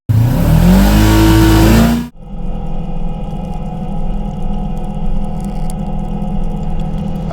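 A side-by-side UTV rides through town as a snowstorm moves in. A loud revving engine rises in pitch, then cuts off sharply into a lower, steady idling rumble.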